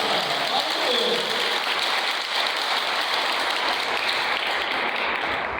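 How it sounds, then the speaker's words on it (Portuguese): Steady, dense applause fills a church gathering, with a speaking voice faintly audible over the clapping at the start before it settles into an even wash of hands. "Vamos dar uma salva de palmas para a palavra de Deus"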